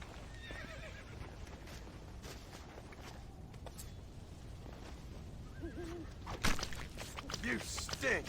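A horse in the video game Red Dead Redemption whinnies a couple of times over hoof steps and background noise while a person talks.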